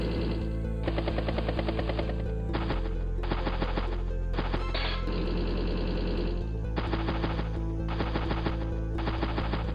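A battle copter in the video game Advance Wars: Days of Ruin fires in rapid mechanical bursts, a dense rattling machine-gun chatter over a steady low engine drone, loud and continuous with brief pauses between volleys.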